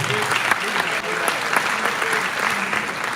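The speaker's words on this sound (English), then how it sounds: "Now, clap for them." Audience applause at a national town hall with the President of Sierra Leone, a steady dense clapping from a crowd lasting throughout, with some voices mixed in underneath.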